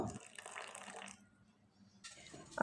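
Boiling hot water is poured onto flour in short, soft splashing bursts, one at the start and another near the end, quiet and close with a lull between.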